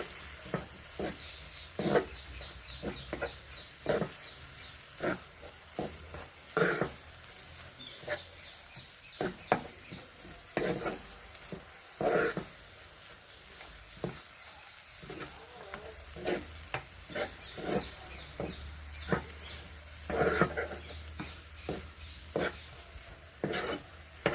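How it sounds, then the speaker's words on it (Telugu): A spoon stirs a ground peanut powder mixture with ridge gourd peel in a pan, scraping and tapping in an uneven rhythm over a soft sizzle, close and moderate in level, with brief voices now and then. "ఒకసారి మళ్ళీ మొత్తం కలుపుతాము"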